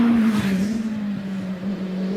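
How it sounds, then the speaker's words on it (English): A hillclimb race car with a Hayabusa motorcycle engine accelerates hard at a British Championship practice at Prescott, giving a loud, steady high-revving engine note close by and no voices. "puts the power down, it's got a lot of acceleration, sounds absolutely magnificent"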